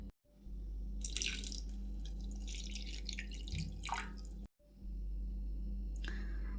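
Chhana curds are rinsed in clean water for homemade rasgulla, with splashing and dripping water in a kitchen sink over a steady low hum, close and fairly quiet, no talking.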